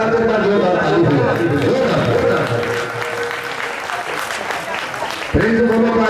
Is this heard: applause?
yes